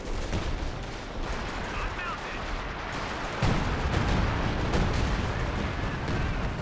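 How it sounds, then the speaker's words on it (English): Assault artillery fire in the World War II strategy game Company of Heroes 2 arrives as a dense, continuous rumble of shelling and gunfire, growing louder midway as closer impacts pile up. "We do now the assault artillery."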